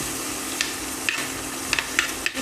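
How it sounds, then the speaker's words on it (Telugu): Chopped ginger and sliced small onion frying in a pan, a steady sizzling hiss broken by a few brief crackles and pops. "ఇప్పుడు వీటిని బాగా వేగనివ్వాలి."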